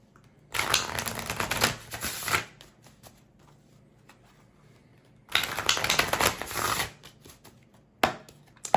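Tarot cards are shuffled in two long riffling bursts, each a couple of seconds of dense papery flutter, with a few soft clicks and handling taps in the quiet between them.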